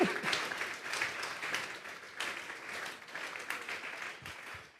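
A congregation applauds during a church service, a dense patter of many hands clapping at once that continues steadily, some distance away and fairly soft.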